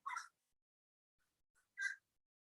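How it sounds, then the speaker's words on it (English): Crows cawing in the woods, two faint distant harsh calls separated by near silence. "Oh, crows."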